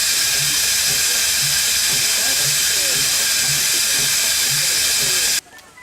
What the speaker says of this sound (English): Random bits of steam.